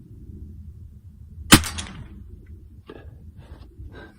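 A single sharp crack from a Gamo break-barrel .177 air rifle firing a lightweight pellet past the speed of sound, loud and close, with a short decaying tail and faint rustling afterward.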